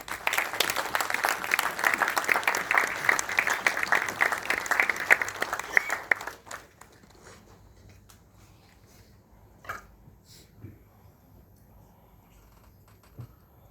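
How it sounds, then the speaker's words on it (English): Audience at a defence session gives a rousing applause to welcome the Chief of Defence Staff; dense clapping for about six seconds, then it stops abruptly, leaving quiet room noise and a few faint isolated knocks. "Please welcome with a rousing applause."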